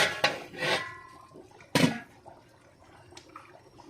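A metal pot lid lifts off simmering menudo with a clatter, a scraping clink followed by a sharp second clank, then a soft bubbling background.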